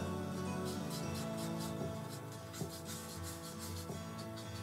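Alcohol markers stroke across paper while drawing rocks in a forest scene, soft close rubbing and scratching in a steady series of short passes with no talking.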